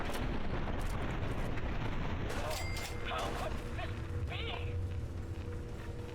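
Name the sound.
gauss rifle shot in video game Fallout 3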